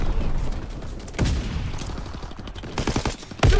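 Dense bursts of gunfire and rapid automatic shots in an online shooter game battle near a tank, loud and continuous with sharp volleys, no talk.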